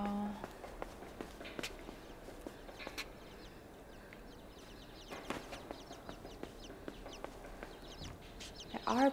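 Chickens cluck and call around a barn interior, with scattered footsteps and shuffling, moderately near and at a steady low level, a sharper squawk rising at the end.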